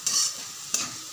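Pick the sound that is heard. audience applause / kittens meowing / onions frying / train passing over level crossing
onions frying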